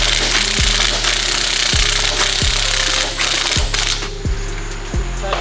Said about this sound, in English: tighten the driver's side front bolt